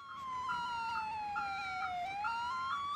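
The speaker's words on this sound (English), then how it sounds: "Our siren's hella fucked up." A police car siren in the video game GTA 4 sounds glitchy and malfunctioning, a steady electronic tone sliding slowly downward with a regular pulsing warble, loud and continuous with no talk.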